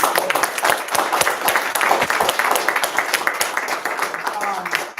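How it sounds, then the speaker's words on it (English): A room full of people at a community planning group meeting breaks into applause, sustained sharp clapping that rises and then tapers off near the end. "Can we run an applause for everybody?"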